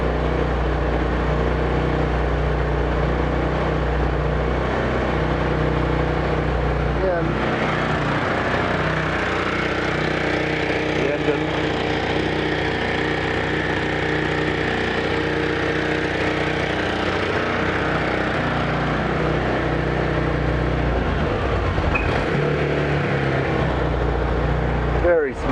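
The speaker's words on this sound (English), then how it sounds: "Very smooth engine." Light airplane engine runs smoothly and continuously at a steady drone, close and loud for the whole stretch, with a person talking over it.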